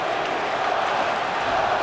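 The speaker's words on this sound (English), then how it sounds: "Crowd chanting." Hockey arena crowd during a 1998 Maple Leafs versus Canadiens game, a dense steady roar of many voices chanting together, loud and continuous with no break.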